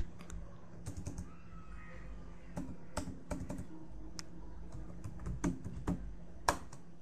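Typing on a computer keyboard, sparse individual key clicks and short bursts of taps at an uneven pace, close and fairly quiet, with no talk.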